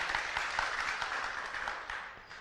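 An audience at a sermon gathering breaks into applause, a fairly soft, even patter of many hands clapping at once, steady throughout with no voices over it.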